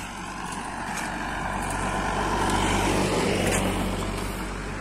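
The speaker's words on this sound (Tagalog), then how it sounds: "Sasakyan." A road vehicle passing along a rural road, a steady engine and tyre rumble swelling as it nears and holding fairly loud without speech.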